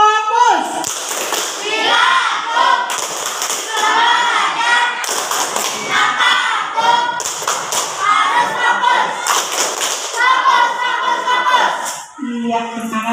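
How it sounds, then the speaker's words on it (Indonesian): A classroom of children performs the rhythmic 'tepuk fokus' focus clap, sharp patterned claps in quick bursts mixed with the children's chanting voices, close and loud. "Tepuk fokus."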